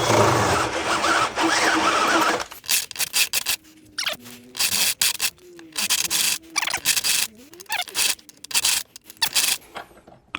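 Metal grinding to cut a thread, run on an old tool with a gearbox fault, heard as a loud harsh burst at first, then a series of short intermittent grinding and scraping pulses with pauses between.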